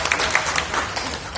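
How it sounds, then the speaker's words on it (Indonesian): Applause from a company gathering greets Pak Samuel at a PT Multistrada union meeting, a soft wash of clapping at moderate distance that carries on evenly. "Tepuk tangan untuk Pak Samuel"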